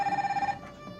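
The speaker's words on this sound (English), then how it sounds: "Like with the Wii Remote phone." Wii Remote speaker ringing as an in-game phone in the 2006 Wii first-person shooter Red Steel: a short, pulsing electronic ring repeating quickly for about half a second, then fading into a softer tonal tail.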